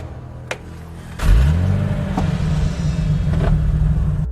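A police car engine starts up and settles into a low, steady rumble nearby as the vehicle drives off, loud and continuous with a few faint clicks over it.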